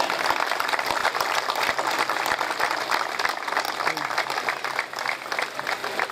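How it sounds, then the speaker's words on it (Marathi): An audience in a hall applauding vigorously, a dense sustained patter of many hands clapping, with a voice talking through it and a few sharp low thumps early on. "त्यांच्यासाठी संबंध सभागृहातून जोरदार टाळ्यांचा मुजरा द्या."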